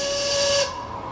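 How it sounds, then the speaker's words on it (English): A ship's steam whistle blasts loudly in the Hidden Mysteries: Titanic video game, a steady hissing tone held for about half a second before cutting off into a faint airy tail. "You didn't just blow the whistle, did you?"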